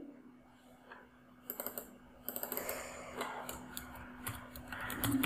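Typing text on a computer keyboard, quiet and close, in uneven clusters of light key clicks with short pauses and a faint steady hum underneath.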